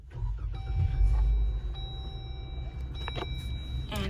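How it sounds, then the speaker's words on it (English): A 2021 Jeep Wrangler Sahara Unlimited engine cranks and fires up with a low rumble that swells in the first second and then settles into a steady idle, with small clicks and a faint tonal whine from the cabin. "So we're gonna go ahead and start the car."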